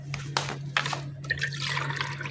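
Water runs into the tank of a TopTier X3 mop, a soft trickling and splashing with a low steady hum underneath, close and faint with no talking.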